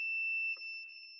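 Continuity tester sounding a steady high electronic beep while its probe touches a UART header pin on a Linksys WRT54G router board; one continuous tone, close and clear, briefly dipping midway with a faint tap.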